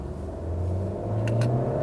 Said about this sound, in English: now we are going to floor this car